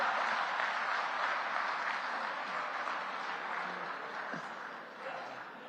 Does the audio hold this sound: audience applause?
yes